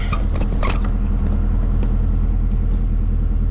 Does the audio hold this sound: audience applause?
no